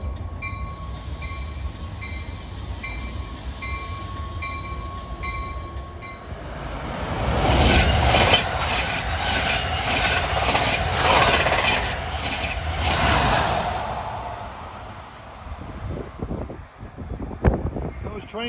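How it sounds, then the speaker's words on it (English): Amtrak Keystone train 652 with a Metroliner cab car, bound from Harrisburg to New York through New Brunswick, roars past close by with a swelling rush of wheels and wind that fades toward the end, a sharp clank near the close. "Here comes Amtrak 652 from Harrisburg to New York at 6:06."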